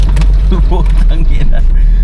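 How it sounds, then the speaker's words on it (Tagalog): Rattling from inside a Toyota Corolla AE92, concentrated on the passenger side, a loose irregular clatter running steadily under a low engine drone, with someone talking over it. "Pero marami siyang kalampag, lalo na sa passenger side."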